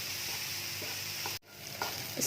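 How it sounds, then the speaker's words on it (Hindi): Grated cauliflower stuffing frying in a pan for gobi paratha, a continuous soft sizzle with light stirring scrapes and one brief dropout midway. "इसे हम चलाते हुए थोड़ी देर और भून लेंगे।"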